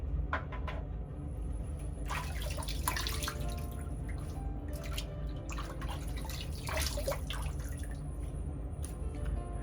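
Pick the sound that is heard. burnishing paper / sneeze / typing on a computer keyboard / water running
water running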